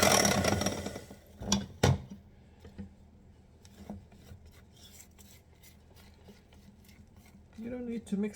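Pumpkin roll batter stirred in a bowl with a utensil: scraping, rubbing strokes that start loud, fade to faint intermittent scrapes, then pick up again near the end.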